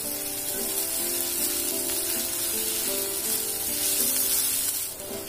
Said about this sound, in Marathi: आता आपण आता आलं लसूण पेस्ट घालून घेऊया, व्यवस्थित परतून घेऊया।